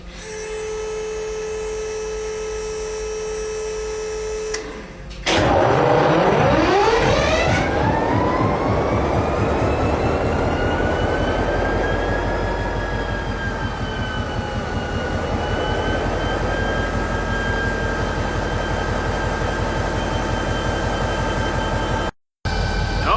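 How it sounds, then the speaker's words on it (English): A 16-cylinder diesel locomotive engine cranks and fires up outdoors in cool weather, then settles into a loud, steady, deep rumbling idle with a rising whine. "We're gonna start a 16 cylinder engine right now."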